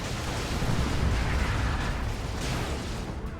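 Grenade blast in a Dawn of War 2 3v3 match, Warhammer 40k real-time strategy, heard as a dense, continuous rumbling explosion roar with crackling debris filling the whole moment at steady loudness, no voices over it.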